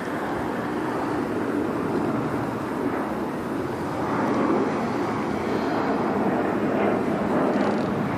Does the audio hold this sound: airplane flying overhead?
yes